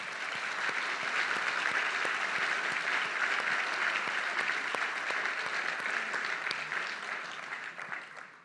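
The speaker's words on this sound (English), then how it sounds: "let's first give these gentlemen a round of applause" Sustained, dense applause from a conference audience for a panel of speakers, steady and full for about eight seconds before tapering slightly at the end, with no talk over it.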